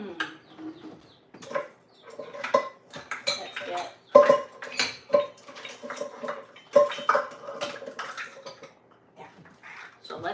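Metal measuring cups clatter and clink as a hand rummages through a kitchen set of them, with bursts of close rattling and jingling while someone talks over it.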